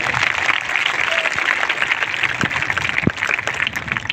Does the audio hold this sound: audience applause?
yes